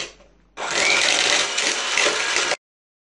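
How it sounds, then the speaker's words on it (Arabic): Electric mixer beating butter and sugar for a date and oat sweet, a loud steady whirring drone that starts abruptly, runs about two seconds without a break, then cuts off into silence. "والزبده، وكنرجعوا نخلطوهم مزيان بالخلاط الكهربائي"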